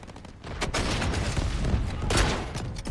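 Rapid gunfire rattles through a Delta Force Conquest match, dense bursts of shots layered together and fairly close, with a heavier crack near the end.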